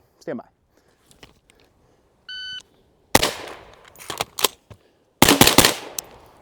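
On an outdoor range at about 20 yards, a shot timer beeps once and a rifle built on a Griffin MK2 ambi lower fires a single shot, then a reload, then a fast burst of three loud shots. Someone talks briefly before.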